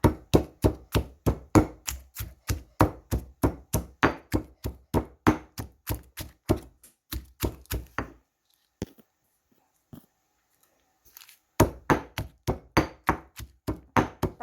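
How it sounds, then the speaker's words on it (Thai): Roasted eggplant and chilies pounded with a pestle in a mortar for a Thai grilled eggplant salad: a steady run of loud, regular thuds at close range, then a pause with a few scattered knocks before the rhythmic pounding starts again. "สุกแล้วเราก็จะมาตำนะคะ แล้วก็ พริกมะเขือ เราจะตำหมดเลยค่ะ"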